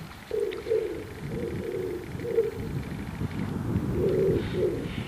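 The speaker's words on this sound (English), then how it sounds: "Oh, wood pigeons over there" Low, soft cooing of wood pigeons repeats in gentle phrases at a moderate distance over faint outdoor background noise in a field.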